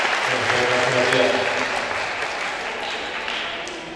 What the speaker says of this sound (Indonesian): tepuk tangan dong buat Mas Faisal